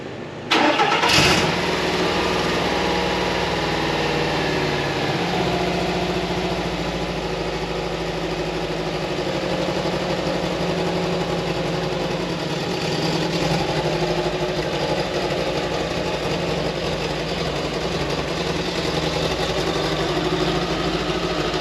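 A VW bus engine cranks and fires up from a cold start, then settles into a steady, loud idle that runs on continuously with a low rumbling throb.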